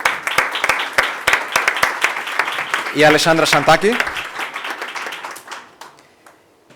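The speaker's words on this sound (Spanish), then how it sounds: "demos un grandioso aplauso a la doctora Jackson" Audience applause at the Mondiacult 2022 culture conference, a burst of many hands clapping that swells, then thins and fades out, with a voice speaking over the middle of it.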